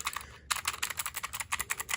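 A mechanical travel keyboard clatters under fast, continuous typing, with a rapid stream of close, crisp keystrokes and a brief pause near the start.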